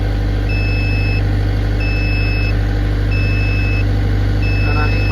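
A 40 kVA diesel generator runs at full load, about 59 amps. A loud, steady low engine drone holds throughout with no break, and a faint high tone, likely an alarm, comes and goes in regular pulses over it.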